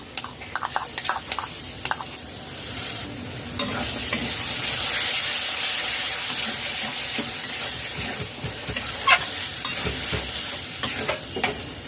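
A spice mixture with yogurt stirred and fried in a pan over low to medium flame, a loud continuous sizzle with scraping stirring strokes that swell in the middle, no voices.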